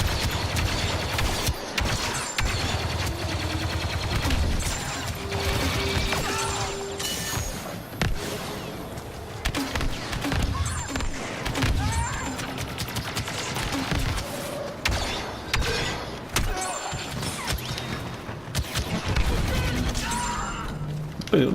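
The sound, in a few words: gunfire and explosions in a Star Wars Battlefront 2 video game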